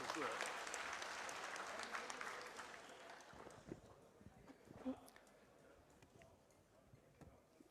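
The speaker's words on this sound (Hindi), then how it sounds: "जोरदार तालियों से अभिवादन" Audience applause greeting a speaker coming to the mic at Lokendra Singh Kalvi's birth anniversary ceremony, loud and dense at first, then gradually fading into scattered claps and murmuring as the event continues.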